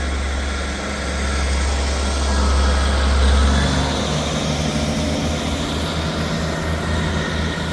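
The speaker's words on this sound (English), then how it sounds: "Departing out now is the 1146 Scotrail service from Dundee to Edinburgh Waverley" A ScotRail Dundee to Edinburgh Waverley service pulls out of Inverkeithing station, giving a steady loud low engine drone that swells slightly and then holds, heard close with no voices.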